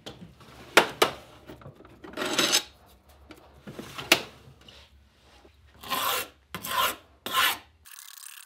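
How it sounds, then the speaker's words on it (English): Hand file cutting a slight bevel on the edges of a metal knife pattern for a sand mold, rasping in separate close strokes, some sharp and short, others longer and louder. "I filed a slight bevel on each edge"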